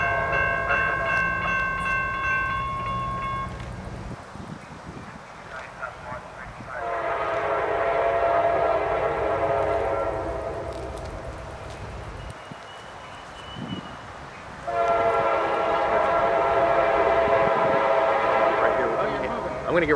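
Two long, loud horn blasts from CSX freight trains, separated by a lull, over the rumble of passing rail cars as two trains pass together; a voice is heard briefly near the start.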